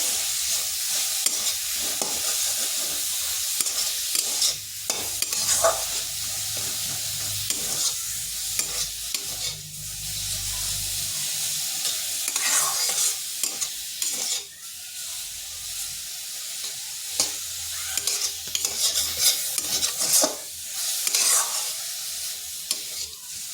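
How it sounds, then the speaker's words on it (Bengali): Salted cauliflower florets fry in a pan, releasing water as they cook, giving a continuous sizzling hiss broken by frequent stirring scrapes and clatter, close and fairly loud throughout with no voices. "ফুলকপিগুলো একটু ভেজে নেব যাতে তার কাঁচা গন্ধটা চলে যায়"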